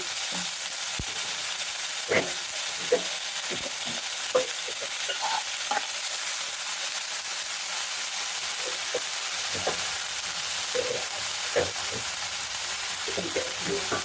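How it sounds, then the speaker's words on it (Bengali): Ginger paste fries in a pan for a vegetarian kochu shak dish, sizzling in a constant hiss while a spoon stirs it in repeated scraping strokes, close and clear with no talking. "আদা পেস্টটা দিয়ে দিলাম, দিয়ে একটু নাড়াচাড়া করবো।"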